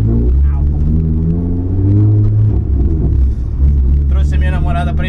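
A loud Nissan 350Z drift car, lowered, rolling very slowly, with a deep, heavy exhaust rumble droning throughout.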